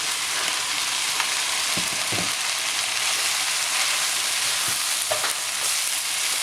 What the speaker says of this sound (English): just stir frying these on a high heat